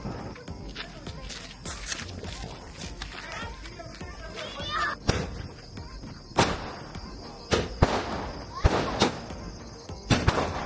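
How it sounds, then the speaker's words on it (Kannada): Deepavali firecrackers burst in sharp, loud cracks at irregular intervals, several bangs over about ten seconds, while children play and talk nearby. "Burning crackers."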